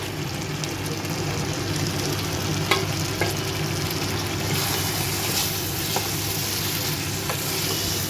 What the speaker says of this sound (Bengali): এরপর আমি এর মধ্যে আলু কপিগুলো দিয়ে দিলাম।